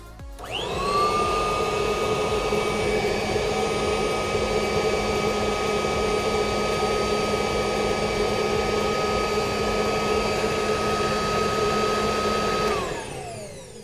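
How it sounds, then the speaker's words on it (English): A Kirby Tradition vacuum cleaner converted to take HEPA bags spins up and runs loud and steady for about twelve seconds with a high motor whine, then winds down. "we've got the Kirby Tradition fitted with our conversion"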